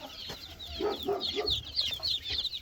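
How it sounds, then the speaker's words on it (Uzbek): Chicks and chickens on a poultry farm cluck and cheep, with high peeping chirps over lower clucks, fairly quiet and continuous. "Mana jo'jalar ko'rsating aka"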